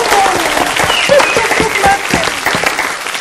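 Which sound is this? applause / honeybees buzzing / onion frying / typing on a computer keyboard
applause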